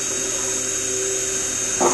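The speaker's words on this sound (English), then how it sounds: "I'm going to take my drill and I'm going to drill out" A power drill bores out a hole while installing the strut on an RC gas boat hull, a steady high whine running continuously before a brief louder burst near the end.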